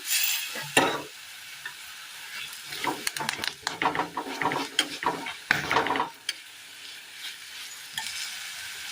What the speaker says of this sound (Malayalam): ആ പൊടികളൊക്കെ ഒന്ന് മൂത്ത് കിട്ടിയിട്ടുണ്ട്.